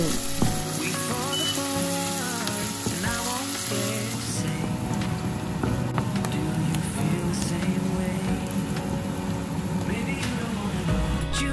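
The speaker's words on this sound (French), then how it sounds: "je viens verser la moitié d'un oignon rouge et je fais revenir quelques secondes" Half a red onion sizzling in olive oil in a saucepan makes a lively crackle that runs the whole time, while a voice talks over it.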